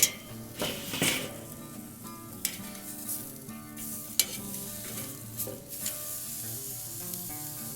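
Tri tip steak sears in a hot pan right after a flip, giving a steady close sizzle with a few sharp metallic clinks and scrapes from a utensil against the pan.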